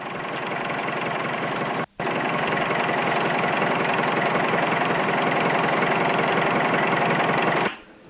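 A small farm tractor's diesel engine idles steadily, loud and close, with one brief cut near the start before cutting off abruptly at the end; no voices.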